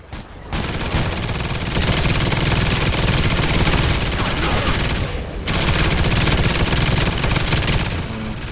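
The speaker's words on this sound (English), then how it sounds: "The good thing about my sentry guns is that they will distract the enemies when we're running back." Sustained automated sentry-gun fire from Call of Duty Ghosts Extinction, a dense loud rattle of rapid gunfire running nearly continuously, with two brief gaps where the firing drops out before resuming.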